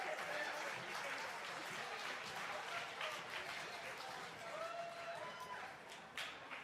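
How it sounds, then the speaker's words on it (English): Faint, steady applause from a crowd at a state party convention, greeting candidates for the South Carolina House, with scattered voices mixed in. "y'all give them a round of applause."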